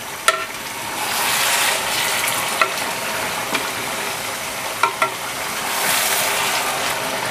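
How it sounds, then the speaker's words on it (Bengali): A large fish head, about three and a half kilograms, sautés in a pan with a steady, close sizzle. Occasional sharp clicks of a utensil mark the stirring, and no one speaks. "মাছটাকে টোটাল 10 মিনিট আমি কষিয়ে নিলাম।"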